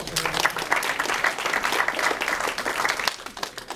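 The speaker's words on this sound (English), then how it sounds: "That's right, give yourselves a hand." A crowd at a political rally applauds steadily, with dense overlapping claps and some cheering holding at a fairly even level, slightly distant and reverberant.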